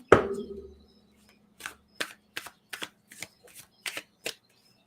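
After a soft thump, a deck of tarot cards is shuffled by hand in a quiet room, giving a string of about eight crisp, evenly spaced riffling snaps.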